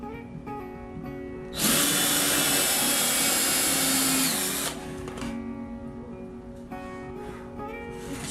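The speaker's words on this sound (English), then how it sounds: "I'm going to drill just before the line on this side" A power drill bores into a cedar board for a DIY strawberry tower, a single loud whining burst of about three seconds that stops abruptly, framed by a quiet workshop hum.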